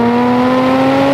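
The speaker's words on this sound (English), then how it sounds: "And then when you put your foot down, it bellows." A Jaguar F-TYPE V6 bellows under acceleration, a loud, close, sustained engine drone with steady harmonic tones and no talk.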